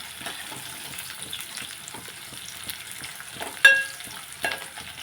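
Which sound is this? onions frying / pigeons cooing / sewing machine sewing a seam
onions frying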